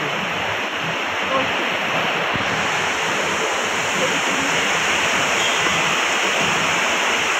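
Water flows forcefully at the Panchalingeswar temple, a loud steady rushing roar close by, continuous throughout with a faint voice beneath.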